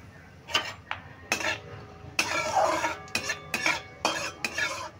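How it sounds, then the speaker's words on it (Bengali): A spoon stirs tempering spices with asafoetida in a frying pan, scraping and clinking against the metal in repeated bursts over a faint sizzle, with no talk. "ফোড়নটা আমি নেড়ে ভেজে নিয়েছি।"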